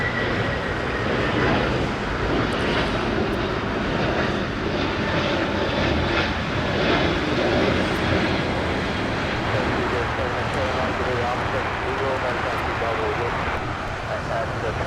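An Airbus A350 departing LAX runway 24 left, bound for Rome, roars with a loud, sustained engine drone that swells and fades gently over fifteen seconds, with voices talking over it.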